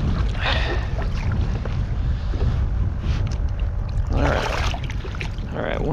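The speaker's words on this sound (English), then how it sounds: "I'm using my paddles and my pedals so I can" A pedal-and-paddle kayak moves on saltwater while fishing off Sebastian, Florida, with a steady rush of water and wind buffeting the microphone and intermittent splashy paddle strokes throughout.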